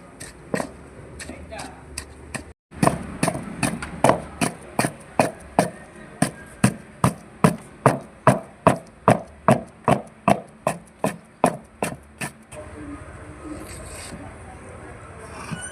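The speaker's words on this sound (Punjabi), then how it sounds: "ਇਹ ਆਪਾਂ ਹਰੀਆਂ ਮਿਰਚਾਂ ਜਿਹੜੀਆਂ ਉਹ ਚੰਗੀ ਤਰ੍ਹਾਂ ਰਗੜ ਲਈਆਂ" Green chillies crushed with salt and turmeric for a Punjabi sabzi, a pestle or hand pounding in a quick run of about twenty even, hard thumps, close and distinct over faint background noise.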